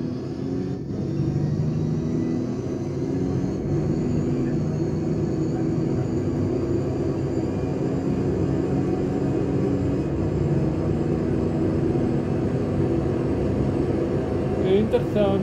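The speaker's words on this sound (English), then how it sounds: "This is Ford engine." A Ford engine in Gran Turismo 4 drones steadily and loudly through the whole stretch, a constant rumbling roar without pauses or clear gear changes.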